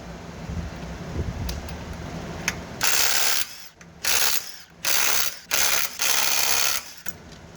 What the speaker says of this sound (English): take off the wheel. You can use your tire iron, or I just use my impact tool.